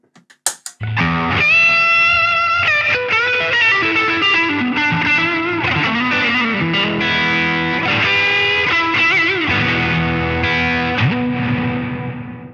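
An electric guitar plays through a NUX Atlantic pedal's plate reverb, set with a raised level and longer decay, chords ringing out with a lush, washy tail after a few brief opening plucks.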